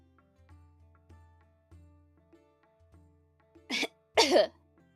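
A person clears their throat twice in quick succession, two short raspy bursts close up, after some soft background tones and faint voice.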